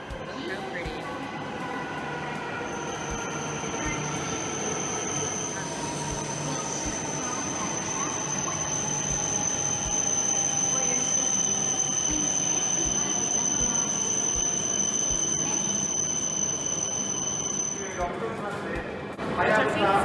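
A Shinkansen bullet train carries passengers on a two-hour ride in Japan. A steady, loud rolling rumble runs throughout, with a sustained high whine and faint tonal hums layered on top.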